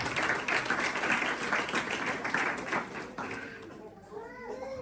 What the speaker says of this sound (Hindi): उसकी जलाल के लिए जोरदार तालियां।